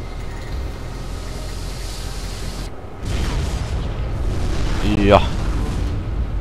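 Game explosion in the first-person parkour title Mirror's Edge: a dull low rumble steps up into a louder roaring burst after a short lull, with a rising whine near the end and someone talking briefly over it.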